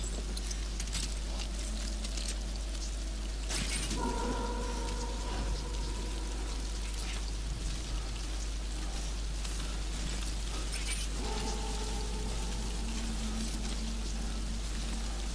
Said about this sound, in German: Es regnet weiterhin los, wird alles kaputt.